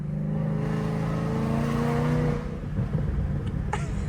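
A Ford Mustang S550 with an aftermarket exhaust revs loudly nearby, holding a deep, steady roar for about two seconds before dropping away into a rougher idle burble.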